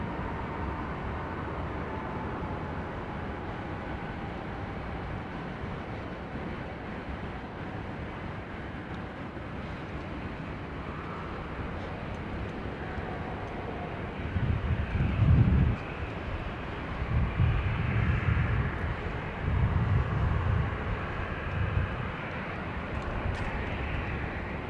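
Airliner on final approach and landing on runway 16 left at Sydney Airport, a steady distant engine rumble that swells louder with low rushing bursts in the second half, heard alone without talk.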